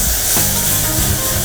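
Milk poured into a hot butter and flour roux for a bechamel gives a loud, broad steamy hiss with a brief burst near the start, continuous and close for the whole moment.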